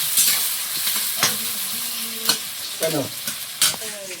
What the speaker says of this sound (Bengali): এর মধ্যে পেঁয়াজ কুচি দেবো